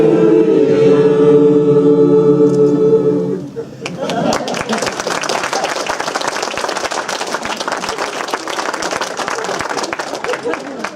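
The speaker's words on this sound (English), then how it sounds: "Thank you for your wonderful applause there." An audience at a Darwin Day humanist talk breaks into applause as a sung birthday song ends, the clapping swelling into a dense, sustained, fairly loud patter that carries on for several seconds.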